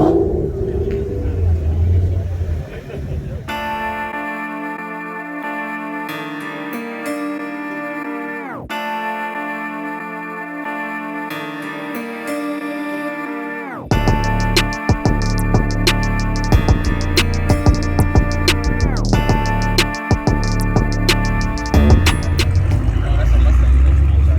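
A Porsche sports car at an exotic car festival revs its engine hard, with loud, close, sustained engine roars rising and falling in pitch, punctuated by short drops between revs.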